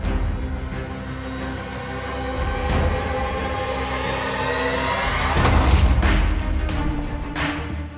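Minecraft TNT cannon launching large amounts of TNT into the air, a rumbling run of booms and crashing blasts, some deep and distant, others sharper and closer, building to a heavier cluster of explosions near the end.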